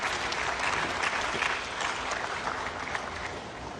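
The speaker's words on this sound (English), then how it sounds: "A round of applause for these companies" A room of delegates at an annual general assembly of African companies applauds honoured partner firms, a sustained, even round of many hands clapping at moderate volume with no speech over it.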